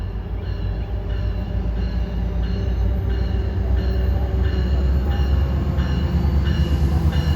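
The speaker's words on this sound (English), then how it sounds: "Right at 301 is Virginia Railway Express 303, bound for Spotsylvania" Virginia Railway Express commuter train 303, bound for Spotsylvania on the CSX RF&P line, rumbles steadily and loud with a deep low roar and faint repeating wheel clicks throughout.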